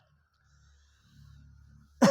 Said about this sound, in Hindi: खांसी बीच बीच आ जाती भाई